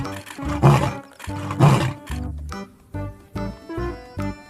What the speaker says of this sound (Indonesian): Singa si raja hutan.